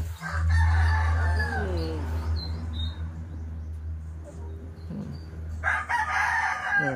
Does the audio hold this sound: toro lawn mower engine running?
no